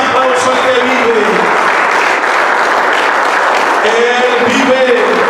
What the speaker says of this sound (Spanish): Vale más fuerte ese aplauso al que vive.